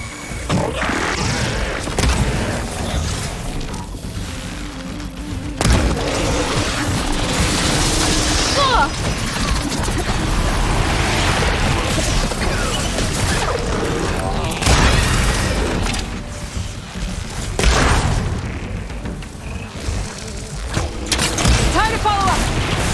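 Glowing crystals burst with heavy booms and crashing thuds during combat in Horizon Forbidden West, amid mechanical clatter and busy game effects. Blasts come in repeated loud bursts, with a voice speaking intermittently.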